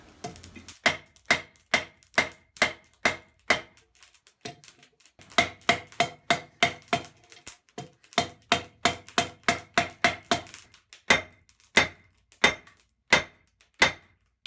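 A steel spork end being hammered flat while forging: a long series of sharp metallic strikes in a steady rhythm with a few short pauses, close and distinct.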